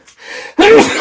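A single sneeze sounds close and loud: a short inhaling build-up followed by a sharp, explosive burst that trails off within about half a second.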